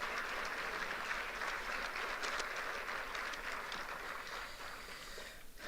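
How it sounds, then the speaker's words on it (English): An audience applauds a keynote speaker at an MLK event, a dense, even wash of many hands clapping that holds steady and slowly fades toward the end, with no voices. "her another round of applause"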